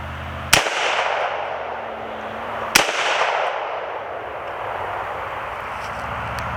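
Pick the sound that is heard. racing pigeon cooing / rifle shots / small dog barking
rifle shots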